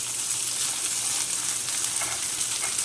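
Boiled potatoes frying in a pan for a fasting-day vegetable dish give a steady, close, hissing sizzle with small crackles throughout.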